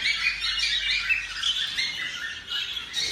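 Pet birds in flight cages, including pied and pastel varieties, keep up a continuous busy chorus of high chirps and squawks, fairly close and overlapping with no talking.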